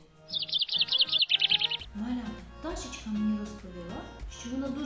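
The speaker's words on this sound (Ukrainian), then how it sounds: "Ви впізнали її? Так, це пташечка." A small bird gives a quick run of bright, high chirps close by, then a voice starts talking and continues over faint background sounds.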